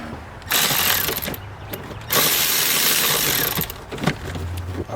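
Ratchet wrench loosening a valve cover bolt on the passenger side of a 2005-2009 Ford Mustang with the 4.0 V6, giving loud bursts of rapid clicking separated by short pauses, close up with no talk.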